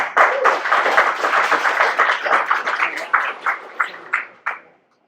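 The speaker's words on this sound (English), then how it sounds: "Let's give a round of applause," A meetup audience gives close, loud applause that thins out over several seconds into a few separate claps before it stops.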